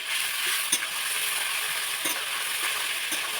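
Ginger and spices for a paneer pulao are stirred in a pan with a steady broadband sizzle, a few soft scrapes of the spoon against the pan marking each pass.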